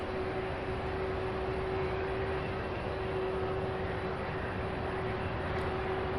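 An MD-11 jet idles at an airport ramp at SDF in Louisville, Kentucky, its engines giving a steady, loud, broadband roar with a constant whine that holds throughout, no voices over it.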